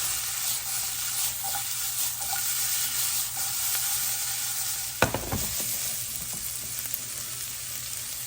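Garlic frying in a pan while being stirred and flipped, a continuous close sizzle with scraping and clattering as it is tossed, a sharper clatter midway, no voices.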